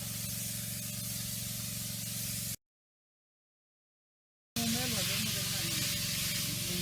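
Defensa fungicide sprayed onto plants against Phytophthora, a steady close hissing spray running continuously, breaking off into silence for two seconds and then resuming with some faint background tones.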